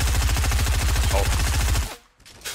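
Rapid automatic gunfire in the video game Fortnite, a dense, loud burst of evenly spaced shots lasting nearly two seconds before cutting off into near silence, with faint game sounds trailing after.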